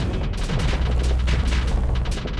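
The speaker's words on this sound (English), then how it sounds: "The ion cannon," Ion cannon fire in the space combat game Starsector, a dense run of booming energy blasts and rumbling impacts layered over one another, loud and continuous throughout.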